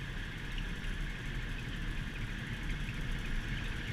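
An old car with a manual gearbox cruises in third gear at about 50 mph, its steady engine drone and broad wind noise continuous and fairly quiet from inside the cabin.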